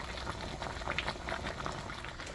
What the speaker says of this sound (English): We always heat these up by putting the pouch inside a pot or pan of boiling water